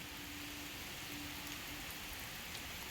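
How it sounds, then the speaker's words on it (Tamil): Heavy rain pours down on a banana plantation in a steady, dense hiss that doesn't let up, with a faint low hum beneath it. "சரியான மழை இங்கே"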